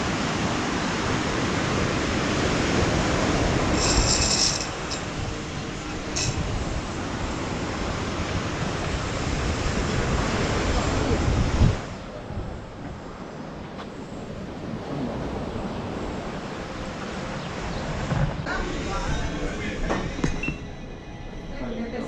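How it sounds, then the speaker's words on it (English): Steady roar of surf breaking against rocks at Sant Elm, Mallorca, loud and continuous, with wind noise on the microphone and a brief clink partway through. "we can watch the waves crashing against the rocks on the beach"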